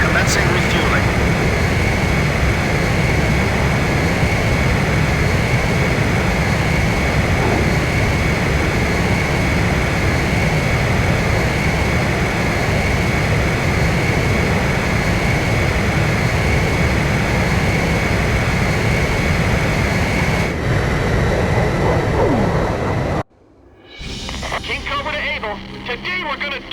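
Steady roar of jet aircraft engines during aerial refueling in Ace Combat 5, loud and continuous for most of the stretch before cutting off abruptly near the end, with radio voices talking over it.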